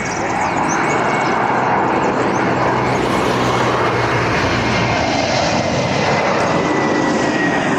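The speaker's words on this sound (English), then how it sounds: "And we've got Lufthansa coming from Frankfurt, the A321" A Lufthansa Airbus A321 arriving from Frankfurt on runway 24R at Barcelona roars as a loud, continuous jet engine rumble, steady throughout the clip.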